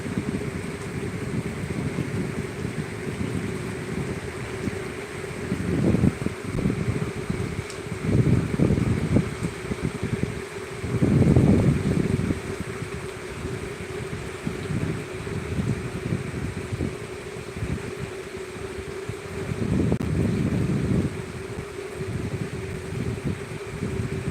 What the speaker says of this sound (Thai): ลมดังมากคุณผู้ชมลมลมดังมาก